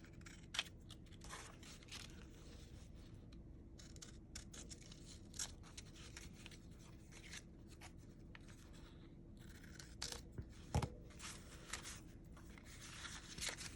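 Scissors snipping off loose thread ends on machine-sewn paper, quiet close clips and light paper rustles scattered over a steady background hum, with no talking.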